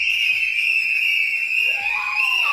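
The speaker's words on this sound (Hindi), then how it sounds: "उनके परिवार के लोगों ने कैसे सीटियां बजाकर इस खुशी को जाहिर किया" Family members whistle in celebration at home, a loud, sustained high-pitched whistle held almost unbroken throughout, joined near the end by a second rising whistle.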